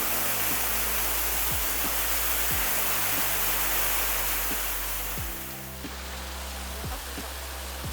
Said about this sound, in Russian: Ну вот этот водопад